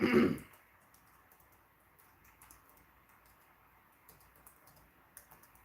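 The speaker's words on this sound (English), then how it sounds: "While I'm typing this in, let me continue." Faint, scattered keystrokes on a computer keyboard tap away in a quiet room after a brief loud thump at the start, the clicks light and irregular.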